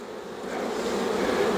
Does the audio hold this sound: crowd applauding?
no